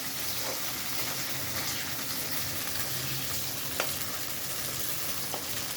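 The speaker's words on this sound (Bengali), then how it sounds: "এগুলো একটু ভাজা ভাজা হয়ে যায়" Soybean chunks fry in hot oil in a pan, a loud, continuous dense sizzle with occasional faint stirring taps, no voices over it.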